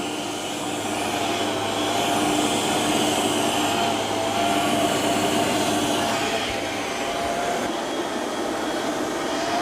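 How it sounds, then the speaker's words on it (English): A Eufy robot vacuum mop swings itself beside an edge while mopping, giving a continuous, fairly quiet whirring hum with a faint mechanical rumble and no voices. "Now I've got it so it'll tilt the robot or swing the robot when it's next to an edge to help with mopping"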